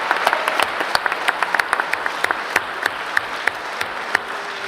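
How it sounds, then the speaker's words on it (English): Applause from a party conference audience for a delegate, a dense steady patter of many hands clapping with sharper individual claps standing out, sustained throughout without speech. "you were getting a good round of applause"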